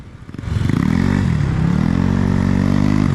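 A Suzuki Raider 150 motorcycle engine revs up sharply and holds a loud, buzzing, rising-and-falling roar close by, with a slight dip in pitch midway before climbing again.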